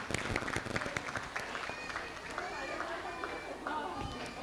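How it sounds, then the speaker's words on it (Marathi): Audience applause for a school team at a children's annual function, a dense patter of clapping from a hall crowd with some chatter and movement mixed in, fairly faint and continuous. "त्या संपूर्ण शाळेच्या टीमसाठी एकदा जोरदार टाळ्या आपण दिल्या पाहिजेत"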